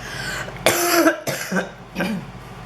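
Three coughs close to the microphone, harsh and spaced about half a second apart, with quiet gaps between.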